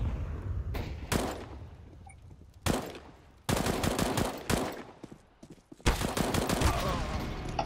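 Bursts of rapid automatic gunfire from the video game Counter-Strike: Global Offensive, with several sustained volleys and single sharp shots, loud and close, during a competitive match.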